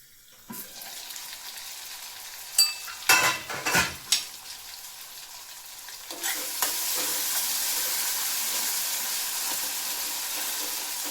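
Tomato gravy for a rustic Gujarati flat-bean curry being stirred and cooked in a pan, with a steady close sizzle and a few louder scraping strokes of the spoon partway through, no talking.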